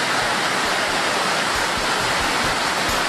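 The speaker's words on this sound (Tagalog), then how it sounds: "Audrey, kung mapapansin nyo, ang Marikina River na nasa aking likuran ay lagpas 12 meters ang level ng tubig sa Marikina River" Loud, steady rush of the high, fast-flowing Marikina River swollen above 12 meters, a dense continuous roar of water with no voices heard.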